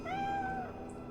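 A single drawn-out cat meow, clear and mid-distance, over a faint steady background tone, in Divinity: Original Sin 2.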